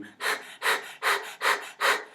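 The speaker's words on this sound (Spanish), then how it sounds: "tome aire y lo exhale en forma de jadeos muy rápidos" Five quick, evenly spaced panting breaths, forced out in sharp bursts of air during a palpatory anatomy exercise, close and clear with no talking.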